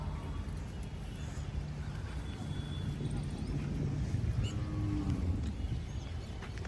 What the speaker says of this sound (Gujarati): તો ભાઈઓ ગાયો તો બહુ મસ્ત ખુલ્લી થઈ ગઈ છે